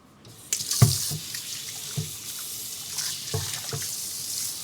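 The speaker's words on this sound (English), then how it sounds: "All right, quick rinse." Tap water runs into a kitchen sink for a quick rinse of a bowl after mixing colored cookie dough, a steady close hiss with a few clinks and splashes as the dish is handled.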